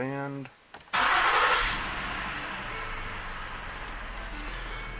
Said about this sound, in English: So there goes the fuel pump